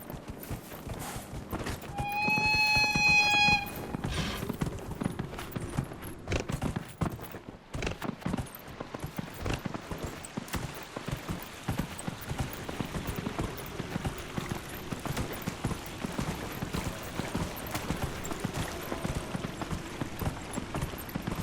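Steady clip-clop of horse hooves trotting in Dragon Age: Inquisition, with a brief whinny near the start over a soft rain-like background.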